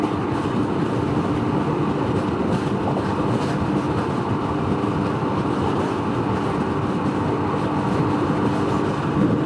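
Roaring wind blast buffeting a rider on a Can-Am Ryker three-wheeler at road speed, a loud, continuous broadband rush with rumbling low end and no voices.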